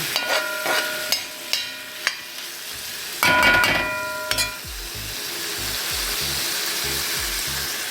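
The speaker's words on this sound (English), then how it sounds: "throw in a couple pieces there and let everything fry up together nice and proper" Curry fish sizzles and fries in a pan with mango pieces, a steady close hiss rising after a few sharp clinks and a burst of stirring, then settling into continuous frying.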